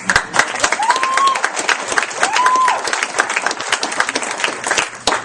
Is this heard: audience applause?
yes